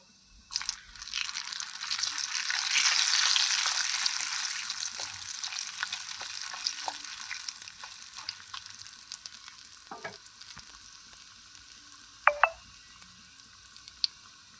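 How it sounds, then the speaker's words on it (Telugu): Tempering spices hit hot oil in a pan on a stove, a loud sizzle that gradually fades into softer crackling, with a few clinks of a utensil toward the end. "తాలింపు దినుసులు వేసేసుకున్నాం"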